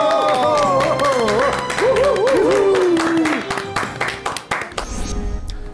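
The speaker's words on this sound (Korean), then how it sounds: "큰 박수로 맞아주시기 바랍니다." A studio audience claps to welcome a Korean medicine doctor, a diabetes specialist, onto a talk show: fairly loud, dense applause rising under a sung musical jingle, then continuing in scattered claps as the music fades.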